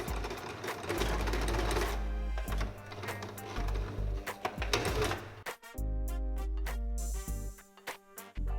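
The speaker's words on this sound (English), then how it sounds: "I've just sewn my zipper to the side and I'm really happy with the result." A sewing machine stitches a zipper onto a handbag, its motor whirring in a rapid mechanical rattle, then breaking into short, stop-start bursts of stitching up close.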